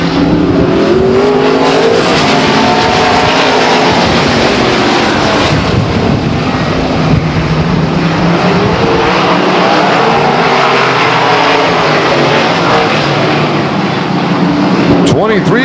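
Race cars roaring around a short oval speedway during a race, a dense continuous engine drone with rising and falling revs, loud throughout with an announcer talking over it.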